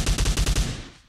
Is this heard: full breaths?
no